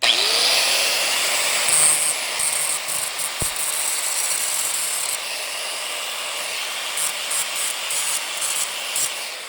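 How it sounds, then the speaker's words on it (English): Grinder working sprue defects off the back of a cast crucifix, a bright high whine with rubbing grit, brief tool clicks, steady and close throughout. "We're gonna be really careful and grind some of that away."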